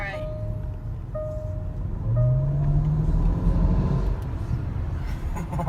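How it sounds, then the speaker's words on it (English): Loud car engine revving and rumbling nearby, a steady low drone that swells midway with a rising tone, while a person talks over it throughout. "This car is damn loud."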